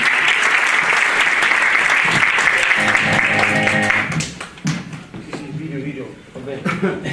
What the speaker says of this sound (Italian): un applauso e diamo il benvenuto al direttore del Nuovo Milano Verano.